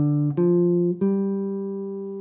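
A guitar picks out a dominant seventh arpeggio, note after note, letting them ring together into a sustained chord that slowly fades; no talking.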